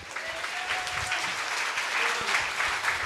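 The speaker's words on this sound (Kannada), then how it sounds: "ಚಪ್ಪಾಳೆ." A Kannada Sunday church congregation applauds in a steady, dense wash of clapping, with a faint sustained musical tone underneath and no clear talk.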